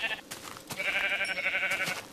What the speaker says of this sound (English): I'm gonna gather some more sheep's wool.